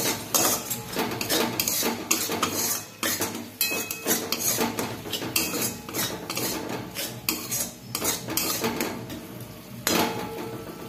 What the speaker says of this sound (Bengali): সামান্য একটু জল দিয়ে মশলাটা ভালো করে কষাবো।